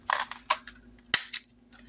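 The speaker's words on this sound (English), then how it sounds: "We're going to roll the dice." Dice rattle and clatter on a hard surface in a few quick bursts, with sharp clicks as they tumble and settle, close and fairly loud.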